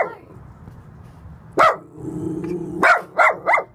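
Fearful shelter dogs at a city shelter bark in a few sharp, loud bursts after a quiet stretch, close by with low growly undertones between barks.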